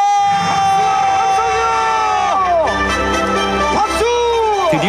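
Crowd at the start of a creative sled contest in Chuncheon, loud cheering, whoops and yells rising and falling in drawn-out shouts.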